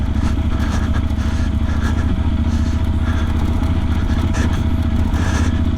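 A motorcycle rolls slowly along a rough, bumpy road, its engine a loud, steady, close drone with rattling and clatter throughout, and no talking.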